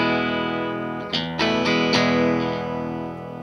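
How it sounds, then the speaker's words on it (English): A Fender Stratocaster runs through a Line 6 delay into a Vox AC30, playing a sustained chord followed by several sharp strums that ring out with echo and a slight distorted edge. "Playing on a Fender Strat into a Vox AC30."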